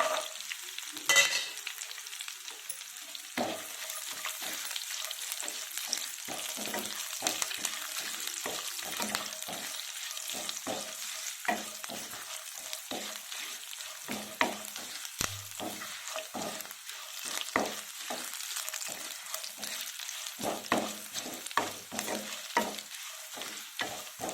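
Cashew nuts frying in a pan while being stirred for temple-style veg pongal, a soft, continuous sizzle broken by frequent scraping stirs and light clinks, close but fairly quiet, with no speech.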